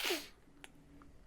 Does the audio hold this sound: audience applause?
no